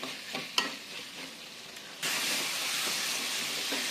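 Tomatoes for a chicken curry cook in a pan with a soft hiss and occasional stirring scrapes, then a louder, steady sizzle takes over partway through and continues to the end.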